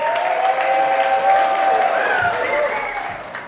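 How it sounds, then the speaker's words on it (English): A comedy club crowd at Helium Comedy Club in Buffalo, New York, claps and cheers loudly for a few seconds, a dense wash of applause that tapers off slightly toward the end. "make some noise for your next comic, Jake Piskor!"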